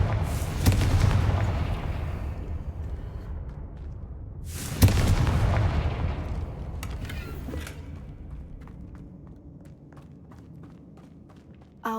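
Two deep booming blasts of the Confringo explosive spell in the video game Hogwarts Legacy, the first at the start and another midway, each followed by a rumbling decay and some faint footsteps.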